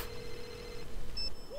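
A telephone rings in a Final Fantasy VII trailer, a sustained electronic trill over a soft background bed, followed by a short higher chirp.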